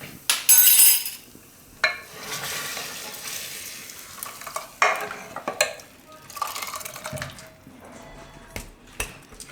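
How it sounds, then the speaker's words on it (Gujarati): A spoon stirs a hot tempering into bajra raab, a millet porridge, scraping and clinking against a metal pot with soft sizzling, in short irregular bursts. "મિક્સ કરી લેવું."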